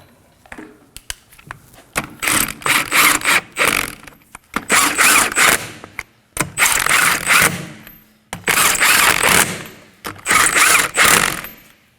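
Bursts of rapid ratchet clicking tighten the rear lower control arm bolts on a 2011-2016 Kia Optima, five or six loud close strokes separated by brief pauses, with no talking.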